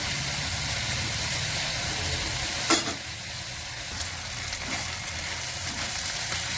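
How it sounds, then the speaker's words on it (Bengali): Shrimp with a little turmeric sizzle steadily in a pan, close up, with a soft clack of a utensil partway through and a low background hum; no one speaks. "চিংড়ি মাছগুলো ভাজা হয়ে গেছে"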